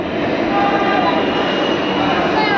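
A metro train runs with a loud, steady rumble and rail hiss throughout, heard from inside the carriage.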